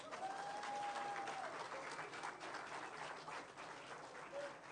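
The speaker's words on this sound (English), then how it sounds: "We can do better. Let's clap more." Crowd at a credit union congress keynote claps steadily, a broad wash of many hands with a faint whistle-like tone and light crowd murmur mixed in, fading slightly toward the end.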